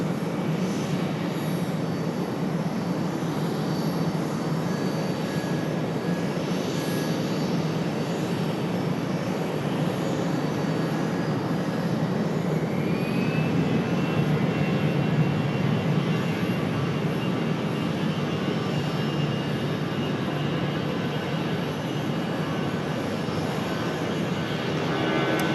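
Aircraft engines drone steadily at Raleigh Durham airport as an American 777 prepares to depart, a continuous broad rumble with a faint rising whine, moderately distant and unbroken throughout.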